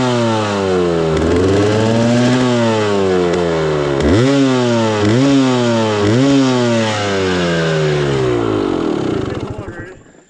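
A Husqvarna TE300 dirt bike at a creek, exhaust wet from the water, revving hard in repeated rising and falling bursts, loud and close, then cutting off near the end.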